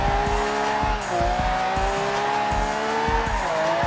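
A 2013 rear-wheel-drive Mercedes-Benz E63 AMG drifting in Forza Horizon 2, a loud sustained engine drone with a continuous tire squeal riding over it as the pitch dips and recovers.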